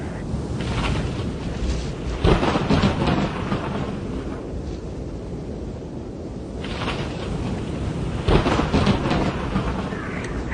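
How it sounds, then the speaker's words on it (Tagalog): Thunder during a storm at sea, heavy rolling rumbles in two broad surges with wind-like roar between them, loud and continuous. "Matatalim na kulog at kidlat ang iginanti pa nito."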